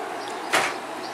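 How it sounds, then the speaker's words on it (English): A single soft whoosh as a pocket door glides shut on its track inside a tiny house under construction, brief and close, over quiet room tone. "Voila! The pocket door. The Star Trek door."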